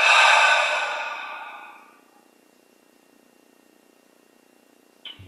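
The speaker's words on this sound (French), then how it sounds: "on expire par la bouche" A single long exhale through the mouth during a meditation session, close and breathy, fading out over about two seconds into near silence, followed by a brief soft knock near the end.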